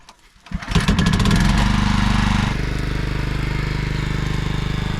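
A portable generator starts up outdoors to power an axe-sharpening grinder through an extension cord at a rural woodlot, rising from a sputtering start into a loud, steady, pulsing engine drone that runs on alone.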